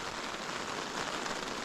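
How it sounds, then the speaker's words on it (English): Rain falls outside tents after a mountain trek over two high passes, a steady soft hiss of drops on surfaces that stays even and fairly quiet throughout, with no voices. "It's raining out there."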